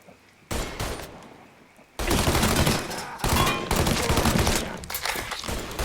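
Gunfire in the video game Mafia 3, with dense bursts of rapid automatic shots and a fusillade of overlapping rounds, loud and close, broken by short pauses over nearly six seconds.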